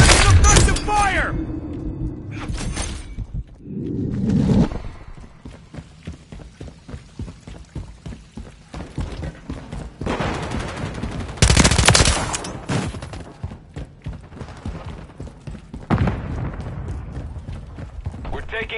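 Gunfire in Call of Duty MW3 multiplayer: repeated bursts and rapid shot clusters at varying distances, some loud and close, others fainter, mixed with footsteps and brief shouted voices.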